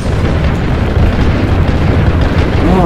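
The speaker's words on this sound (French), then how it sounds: "il me reste 9 grenades d'explosion" A grenade blows up in the zombie-horde survival video game State of Decay, a loud, dense booming roar that fills the whole moment with rumbling low-end debris noise.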